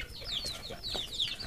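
Chickens on a farm cluck softly and continuously, with a few rising squawky notes over a steady background hum, faint and somewhat distant with no talk.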